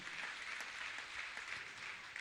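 An audience at a Jain religious gathering claps loudly and continuously, a dense even wash of many hands without a break or a voice.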